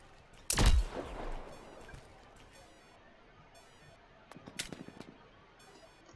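Gunfire in the sci-fi shooter The Signal From Tolva: a sharp close shot at the start with a decaying echo, then a quieter stretch and a second burst of several rapid shots.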